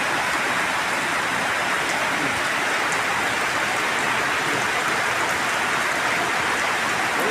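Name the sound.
rain falling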